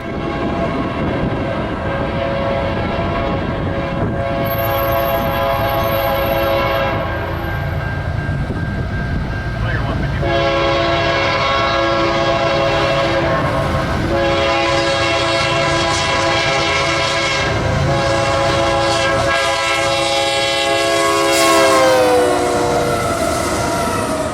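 A freight train led by a CW44AC locomotive rumbles steadily past a diamond crossing at 32nd St, its long, loud multi-tone horn sounding repeatedly over the continuous roar of the cars.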